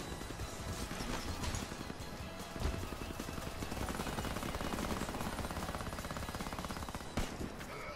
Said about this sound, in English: I'm hearing heavy gunfire in their spawn.